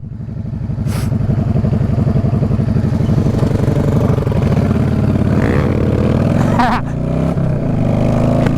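A 2015 Husqvarna-style supermoto motorcycle engine runs close by with a loud, steady, throbbing exhaust note that dips briefly near the end, with voices talking over it.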